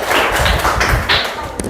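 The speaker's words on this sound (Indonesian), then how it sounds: "Kasih tepuk tangan dong." Sixth-grade students in a classroom burst into brief, dense applause, their close, loud claps merging into a short, choppy patter that fades out quickly.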